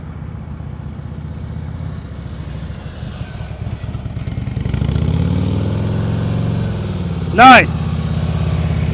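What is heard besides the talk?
motorcycle engine at low RPM during slow-speed riding practice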